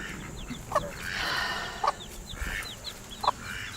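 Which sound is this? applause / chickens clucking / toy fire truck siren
chickens clucking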